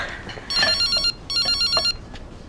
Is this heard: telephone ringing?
yes